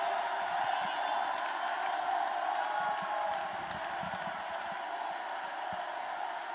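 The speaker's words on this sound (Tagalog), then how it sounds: "Pwede bang pumalakpak? Pwede bang sumigaw?" A church congregation cheering and shouting in a steady, dense roar with scattered whoops and some clapping, loud and sustained throughout, with no pauses.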